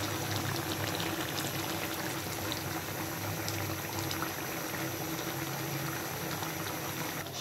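Shol fish dopiaza gravy bubbling and reducing in a pan, a dense continuous hiss and sizzle held at an even level throughout, close by and without any voices.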